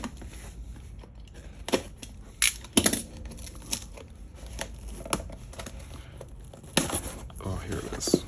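A shipping package holding graded Pokemon cards is cut open and unwrapped. Crinkling, tearing and rustling come in irregular close bursts, with a person talking in between.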